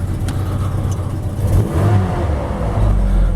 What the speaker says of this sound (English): Engine's revving.